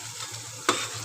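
Ground spices (red chilli powder, turmeric, homemade masala, coriander-cumin powder) roast in hot oil in a pan, a soft steady sizzle with a brief stirring scrape near the end.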